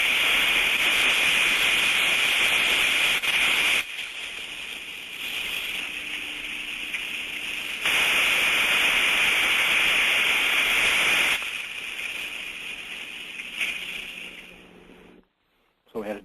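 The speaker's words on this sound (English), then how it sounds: "So a good trap, we're looking for that distinct on-off cycle, and it's going to sound like this." A working steam trap cycles on and off, a loud steady hissing rush alternating with quieter stretches in long regular intervals, close up and with no talking.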